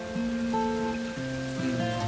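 Steady rain patter falls continuously in a video game, with sustained synth music tones layered over the top throughout.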